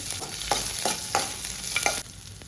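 Cumin, curry leaves, ginger and green chillies frying in hot oil in a pan, a hissing sizzle broken by several rhythmic scraping stirs, then quieter at the end, close by with no voices.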